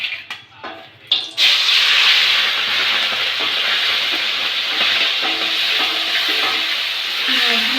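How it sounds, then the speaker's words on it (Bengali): Shelled prawns hit hot mustard oil in a wok and burst into a loud, hissing sizzle that carries on steadily, close up, with no voices over it. "চিংড়ি মাছগুলো ভাজা হয়ে গেছে"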